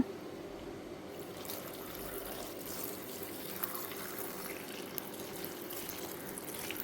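Water is poured into a pot of curry, a faint steady splashing trickle that runs continuously with no voices.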